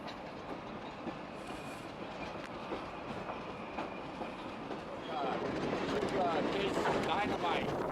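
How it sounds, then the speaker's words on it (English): Nevada Northern Railway train rolling downhill, a steady rumbling clatter of railcars with rhythmic wheel clicks and wind noise, growing louder and busier in the last few seconds, with faint voices in the background. "As the train heads back downhill"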